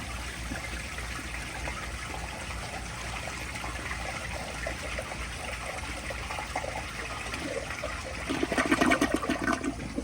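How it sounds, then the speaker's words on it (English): A 1970 Kohler Wellworth elongated toilet, believed to use 5 gallons per flush, whooshes and trickles steadily at moderate volume, swelling into a stronger gushing surge near the end, with no talking. "here is a flush"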